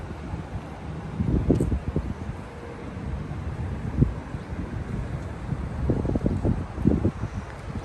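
Strong outdoor wind during the cold season in Ubon, near a white Honda City Hatchback SV, rumbles and buffets the microphone in uneven low gusts, swelling loudest around the middle and end, with no voices.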